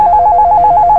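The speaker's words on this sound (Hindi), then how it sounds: "देख, फिर फोन कर रही है।" A telephone rings loudly and close in a rapid, evenly pulsed electronic trill that repeats without a break, with no one speaking over it.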